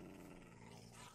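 Low dog growl from the video game Minecraft, a continuous rumbling snarl held steadily for about a second, close and alone.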